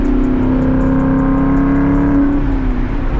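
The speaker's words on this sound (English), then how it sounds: "this is the sound you get with the H-pipe, guys. If you have an X-pipe, you do not get this kind of tone. That like rumble." A Ford Mustang GT 5.0 S550 with an H-pipe exhaust rumbles steadily and loudly up close, its deep, even drone holding through a pull and easing slightly near the end.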